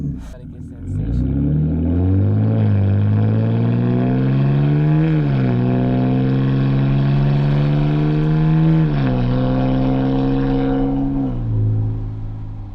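A car with a BMW N52 engine accelerates through the gears, its loud, close engine tone climbing in pitch, dropping at each shift and climbing again in several long sweeps before easing off.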